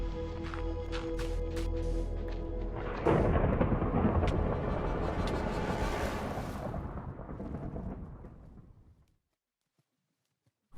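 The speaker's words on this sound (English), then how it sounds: "What was this lightning?" Thunder from a lightning strike in Minecraft during a nuclear-winter survival world, a sudden loud crack that swells into a deep rolling rumble and fades out over several seconds, ending in silence.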